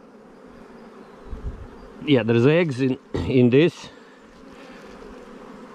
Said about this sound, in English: We shake the bees down.